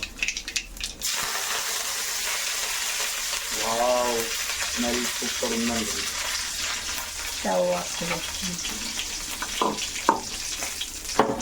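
Curry leaves hit hot oil for a tempering (popu), giving a steady, close sizzle that runs throughout while a person talks over it.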